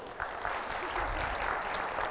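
Steady applause fills a lecture hall as students clap for a pension lottery ticket prize, a dense continuous patter of many hands with no voices over it.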